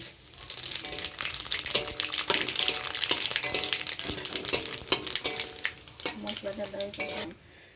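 Bay leaves, dried red chillies and panch phoron are stirred in hot oil in a pan, giving a steady close sizzle with repeated scraping strokes of the spatula throughout, a little louder toward the end.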